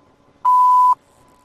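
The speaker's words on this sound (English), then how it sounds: "Please leave a message after the beep." A single loud electronic voicemail beep follows the recorded greeting: one steady pure tone lasting about half a second, with near silence before and after.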